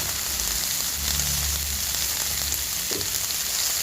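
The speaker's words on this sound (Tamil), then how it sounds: "பொட்டுக்கடலை மாவை அப்படியே ஊற்றணும்" Roasted gram flour batter poured into a hot pan sizzles and crackles steadily and fairly loudly, with a low bubbling undertone and no talking over it.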